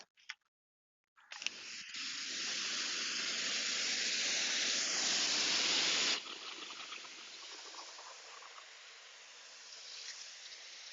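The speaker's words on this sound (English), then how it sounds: "Now I'm going to rinse." A water spray rinsing a ceramic-coated car, a steady loud hiss that starts abruptly, holds for several seconds, then drops to a softer continuous spray.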